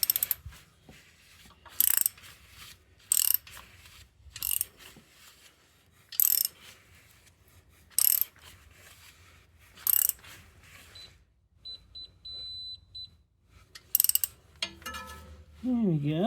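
A torque wrench clicks and ratchets while tightening exhaust manifold bolts on a 2006 Subaru Forester, with repeated short bursts of metallic clicking spaced a second or two apart, close and fairly loud, and light handling noise between.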